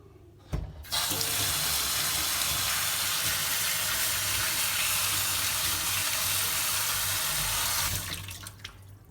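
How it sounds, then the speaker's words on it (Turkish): Tap water running while a sea bream fish is washed in a sink, a sudden steady gush after a brief knock, loud and continuous before cutting off near the end. "Bu şekilde daha sonra yıkıyoruz."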